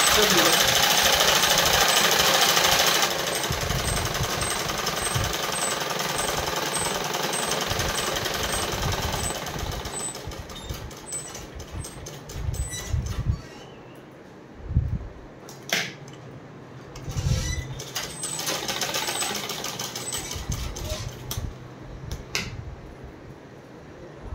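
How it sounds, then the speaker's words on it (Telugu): Domestic sewing machine running in bursts as it restitches the seam of size 40 leggings, with a steady mechanical whir early on, then short intermittent runs with pauses and handling noise. "దృఢంగా ఉండాలని కుట్టు విడిపోకుండా మరోసారి నేను కొట్టి వేస్తున్నాను."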